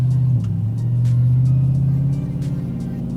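A cammed LS3 V8 in a Chevy Trailblazer SS runs in gear on a chassis dyno, giving a loud, steady low engine drone that swells slightly and then settles, with faint ticking above it.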